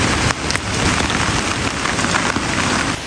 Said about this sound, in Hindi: बहुत मूसलाधार बारिश हो रही है लगातार